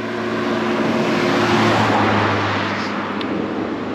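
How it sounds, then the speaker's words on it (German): Cars pass on a road beside walkers, a swelling broadband rush with a low tonal hum that peaks mid-way and fades, fairly close and loud, no talk. "Es kommen auch die ganze Zeit Autos entgegen."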